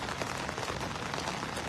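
Heavy rain pours down steadily at a fishing spot, a dense, continuous roar of drops hitting surfaces with no pauses, loud and close, with no voices.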